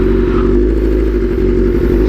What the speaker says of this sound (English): Clutch, throttle, throttle. Now you're throttling, and now the clutch is all the way out.